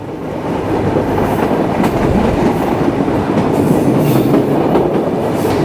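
The Rupshi Bangla Express runs out of Jashore, Bangladesh, a loud steady rumble of carriages heard from inside, with rhythmic wheel clatter over the rails and no talk.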